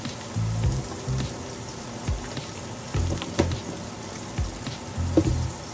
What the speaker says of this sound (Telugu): ఈ మసాలాలన్నీ కొద్దిగా ఆయిల్లో ఫ్రై అవుతే బాగుంటుంది